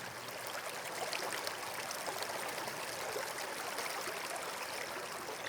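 A small stream flows and trickles gently over its bed, a soft, steady wash of water heard close and alone, with no voices.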